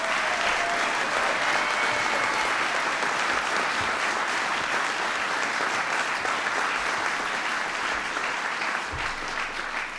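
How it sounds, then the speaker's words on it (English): A large audience applauds steadily throughout, a dense continuous wash of clapping at a political event marking the Small Business Jobs Act of 2010, with no voices standing out. "Please give her a big round of applause."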